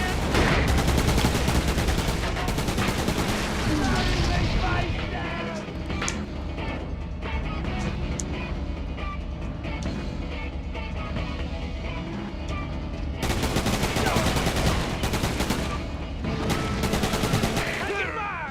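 Heavy gunfire and explosions from the vehicle combat game Roadkill rattle on almost without pause, loud and dense throughout, with engine rumble beneath.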